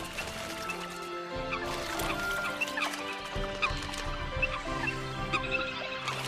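Eurasian coots on a forest pond give repeated short clucking and squeaky calls, several birds near and far, scattered over a steady watery background.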